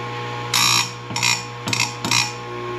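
An electric chainsaw chain sharpener grinding tooth after tooth: four short, harsh grinding bursts over a steady motor hum, with brief pauses between each pass.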